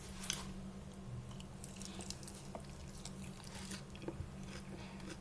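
Close, steady chewing and crunching on a quick salad of greens and seasoned meat dressed with garlic pepper, seasoned salt and onion powder, with small bites and moist squishes and no talking.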